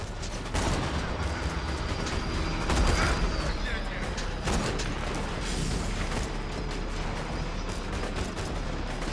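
Dense, continuous gunfire and booming blasts from a Borderlands 2 battle, loud and chaotic throughout, with a heavier burst near the middle.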